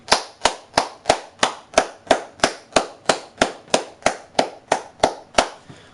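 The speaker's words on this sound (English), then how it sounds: "I'm gonna just have a round of applause for Remedy, Xbox, and just everybody involved in this game" Hands clap in a slow, evenly spaced rhythm for a game studio and publisher, about seventeen sharp, close claps that each ring out briefly before the next, with no other sound between them.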